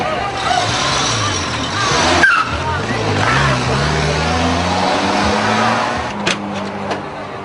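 Stolen car pulling away in Colombia, the engine revving and rising in pitch as it accelerates, loud and steady, with a voice speaking over it.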